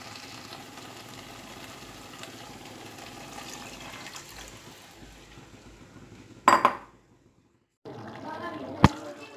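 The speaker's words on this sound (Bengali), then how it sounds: "এইবার এর মধ্যে আমি দিব জল" Water is poured into a pan of spicy masala curry made without vegetables, a steady close wash of liquid noise ending in a brief louder splash, then a short silence before softer kitchen sound resumes with one sharp clink.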